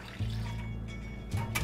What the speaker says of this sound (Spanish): vamos a agregar una taza de agua fría.